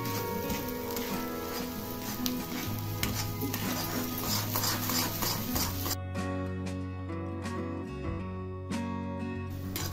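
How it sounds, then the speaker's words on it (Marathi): Masala roasts and is stirred in oil in a pan for a green chutney with dried mackerel, sizzling steadily and close, with scraping stir strokes over a continuous hiss and music. "आता हा मसाला तेल सुटेपर्यंत भाजून घ्यायचा आहे, परतून घ्यायचा आहे."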